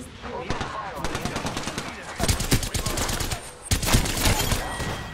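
Rapid automatic gunfire and scattered shots during a video game shootout, dense and loud, with bursts overlapping throughout and brief spoken remarks mixed in.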